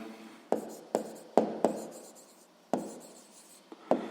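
Pen strokes on paper while a Grade 6 math exercise answer is written out by hand, a series of short scratchy marks in irregular bursts, close and fairly quiet with no talk.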